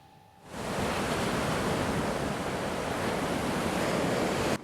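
Ocean waves surge onto Trisik beach in Yogyakarta, a coast eroded by abrasion, as a broad, loud, continuous roar of surf that rises abruptly and holds steady.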